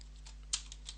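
A few quiet keystrokes on a computer keyboard while entering a Fedora command, soft scattered clicks with one sharper tap over a steady low electrical hum.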